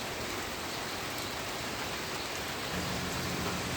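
Light, windless rain hisses evenly throughout, a steady wash of drops with no gusts or voices, holding a constant level.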